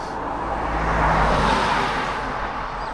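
A car driving along a road to a village, with a steady low engine hum and road rumble heard from inside that swells slightly midway.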